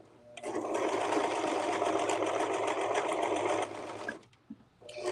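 A serger overlock sewing machine stitches in a steady, loud mechanical whir for about three seconds, then slows and stops, leaving a few faint clicks.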